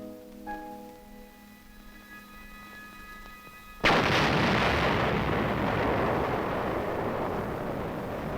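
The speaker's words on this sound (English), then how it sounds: "A nitrate factory smokestack is blown up by an engineer demolition team" A nitrate factory smokestack is blown up by an engineer demolition team: after a quiet stretch with faint tones, a sudden loud blast erupts and gives way to a sustained roaring rumble of falling debris.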